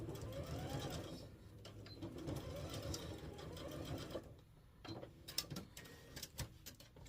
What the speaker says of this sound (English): I want to go back over this corner right here though. Like double stitch.